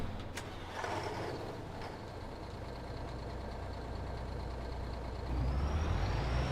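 A heavy truck engine in Farming Simulator 25 rumbles steadily and close, with a brief air-brake hiss early on and the engine note swelling louder near the end.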